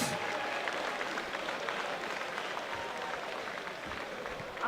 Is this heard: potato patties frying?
no